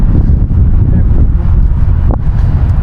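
Strong wind buffets a microphone outdoors, producing a loud, unbroken low rumble that swells and dips slightly throughout and covers everything else.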